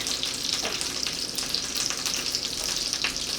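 Two bulbs of garlic fry in a hot pan with a dense, loud, continuous sizzle and scattered spitting crackles close by, with no voices.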